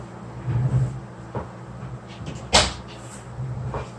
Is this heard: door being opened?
yes